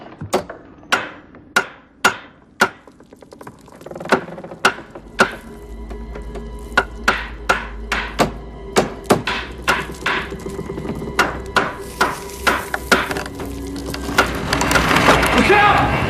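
A mallet drives a snug-fitting piece into place with a run of sharp, evenly spaced knocks, loud and close, quickening and growing denser toward the end as a low rumble rises underneath.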